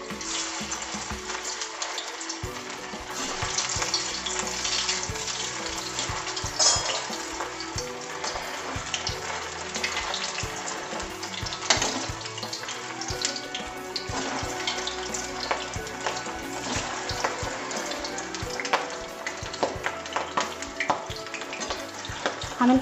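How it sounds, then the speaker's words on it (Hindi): Rolls made from leftover rice deep fry in hot oil over a gas flame, a steady close bubbling sizzle with occasional pops and splashes running throughout, with no talk. "अब इनको तलने के लिए हमने पहले से गैस पर तेल गरम कर लिया हुआ है।"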